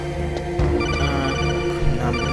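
An incoming codec call rings in Metal Gear Solid, a steady electronic tonal ringing held throughout with a few rhythmic pulses, fairly loud and alone.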